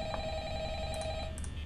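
A telephone rings in the video game Five Nights at Freddy's, a steady electronic trill that holds for over a second and then breaks into shorter bursts, clear and close with no talking.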